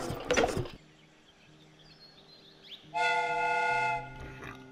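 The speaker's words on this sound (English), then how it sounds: "The steam whistle is ready to be used." A steam whistle in the video game Sherlock Holmes: Crimes and Punishment gives one loud, steady blast of about a second after a brief louder sound and a quiet stretch.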